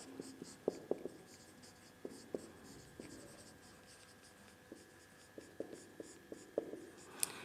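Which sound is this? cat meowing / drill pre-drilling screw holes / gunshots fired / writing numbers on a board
writing numbers on a board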